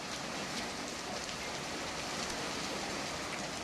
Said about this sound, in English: heavy rain and hail pounded southern Colorado